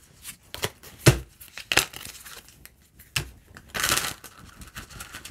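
A deck of tarot cards shuffled close up in short bursts of sharp papery slaps and riffles, with a longer fluttering riffle near the end and brief quiet gaps between.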